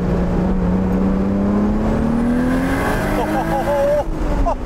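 A single-turbo Toyota Supra MKIV accelerates hard, its engine note climbing steadily in pitch through a gear, then a shift and another rising pull, loud and close from inside the car.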